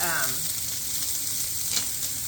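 Pork chops sizzle steadily in a hot frying pan, a constant crackling hiss up close with no talking.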